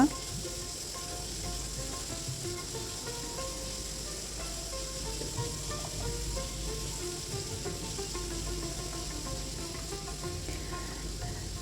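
Finely chopped onions sizzle steadily in hot oil in a pan, a continuous close hiss with faint stirring clatter, no pauses throughout.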